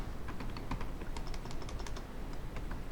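Typing on a computer keyboard, a quick run of close, crisp key clicks in an irregular rhythm, with no voices.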